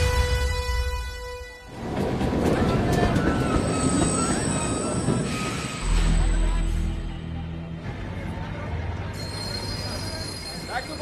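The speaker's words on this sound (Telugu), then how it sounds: "అదేంటి ట్రైన్ వెనక్కెళ్తుందండి?" A train running on rails in an Indian film scene, heard up close and loud, with a continuous rumbling roar, metallic screeching and squealing of wheels, and rattling wagons passing through.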